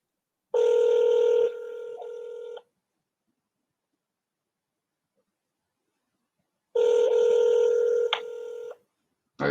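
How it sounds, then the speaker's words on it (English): An unanswered call rings twice through a telephone earpiece, each ring a long electronic burst separated by a few seconds of silence. "I always feel weird just letting a phone ring for a long time"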